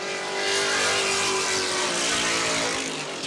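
Sports sedan race cars from a 1981 round at Wanneroo Park, with the race leader on his last lap, roar past at speed. The engine noise is loud, close and continuous, a dense sustained howl with no break.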